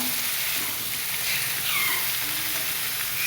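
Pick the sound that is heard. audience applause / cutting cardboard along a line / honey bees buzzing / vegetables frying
vegetables frying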